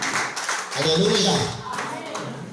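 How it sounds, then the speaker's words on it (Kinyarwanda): A church congregation claps hands, a burst of mixed clapping rising in the middle under a man's loud exclamation and then easing off. "reka twikomera amashyi mu izina rya Yesu"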